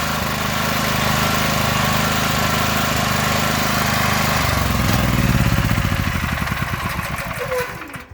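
A Predator generator engine runs on a tri-fuel carburetor kit, a loud, close, steady chugging drone that gradually roughens and pulses as the gas is cut off, sputtering down toward the end.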